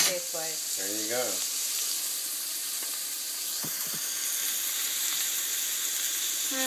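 Almonds sauté in a hot pan with a steady, dense sizzle that runs throughout, with a few faint stirring clicks and a brief voice near the start.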